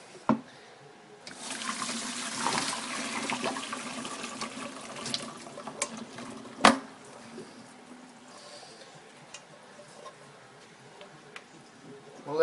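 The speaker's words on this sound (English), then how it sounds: "I'm just going to pour this into the strainer and let it begin to cool" Blanched squash and water pour into a strainer in a sink, a faint splashing and draining with a few clinks and one sharp knock midway.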